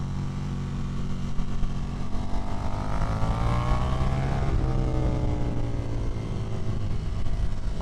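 A 2024 KTM Duke motorcycle accelerates on a race track, its engine note climbing steadily, dropping at a shift, then pulling up again. The sound is loud and continuous, with wind noise underneath.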